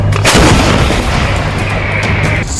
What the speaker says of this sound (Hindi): सेना ने इतनी भारी तादाद में गोले दागे हैं